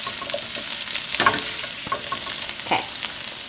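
Partly cooked garlic mixture sizzles in a pan while being stirred, a close, steady frying hiss broken by scraping clinks and a few brief louder scrapes.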